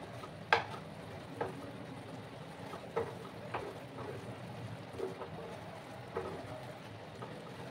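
Green chillies split down the middle and a spoon of chili powder sautéing in a pan for a banana-stem curry, with low sizzling and a few sharp scrapes and taps of a spatula against the pan, no voices.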